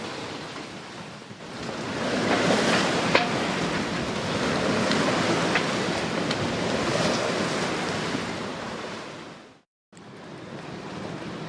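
Strong wind building overnight at a sailboat anchorage in the Aegean, a loud continuous roar with surf-like wash and buffeting against the microphone, cutting out briefly near the end and then returning.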